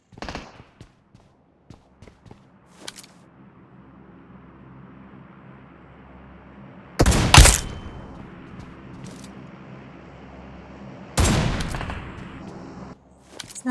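Gunfire in PUBG Mobile, two loud close bursts of rapid shots separated by quieter stretches of faint clicks and distant pops.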